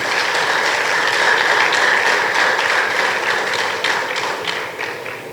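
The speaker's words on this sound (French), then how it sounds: "Applaudissez pour vous-même." An audience at an official ceremony for physical education staff in Benin claps loudly and steadily for several seconds, a dense crackle of hands that thins slightly toward the end.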